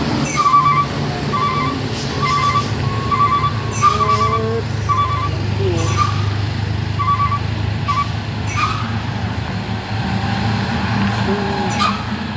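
Blue intercooler truck failing to climb a steep hill and rolling back down, a low engine rumble with repeated high squealing brake tones and hissing bursts, heard from moderate distance without speech.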